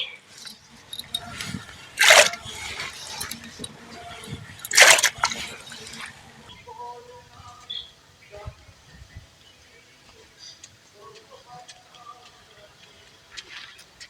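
Water splashes and sloshes over raw turmeric as it is washed in a bucket, two loud gushing bursts early on, then quieter trickling and sloshing, with a voice speaking over much of it.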